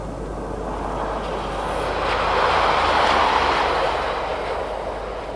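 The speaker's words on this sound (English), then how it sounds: "From the redundant sidings, we see a southbound pacer." Southbound Pacer diesel train passing redundant sidings on the north-east coast line, a rolling rumble with a low engine drone that swells to a peak midway and eases off, no voices.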